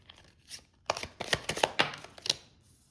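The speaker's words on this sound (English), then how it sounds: "So let's go ahead and pull some tarot cards." Tarot cards are drawn from a deck for a pick-a-card reading, giving a run of sharp papery flicks and slaps that cluster in the middle, close and fairly soft, with no talking.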